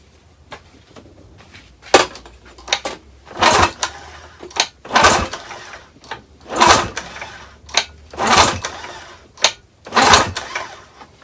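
A two-cylinder outboard motor that will not start is cranked by hand with its pull starter for a compression test: about seven separate rasping pulls come in an uneven rhythm, close and loud, with quiet gaps between.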